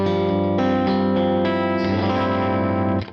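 Electric guitar run through the tremolo reverb program of a Zoom Studio 1204 rack effects unit, sustained chords pulsing steadily with reverb wash, loud and continuous for about three seconds before cutting off.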